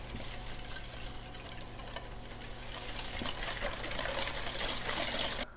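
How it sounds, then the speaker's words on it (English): A whisk stirs sugar into wet cornbread batter in a bowl, a soft continuous swishing and sloshing that grows slightly louder toward the end, close and quiet with no talking. "So 5 tablespoons of sugar just went in. And then I'm gonna whisk that up."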